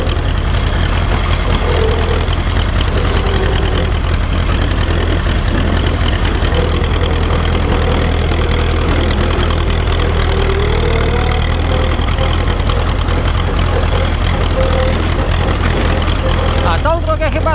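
An Ursus tractor engine idles with a steady, loud low rumble that continues throughout, joined by a brief higher sound at the end.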